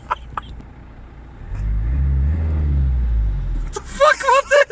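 A car engine running on cooking oil starts and runs with a low rumble that swells then settles, followed by people talking close by.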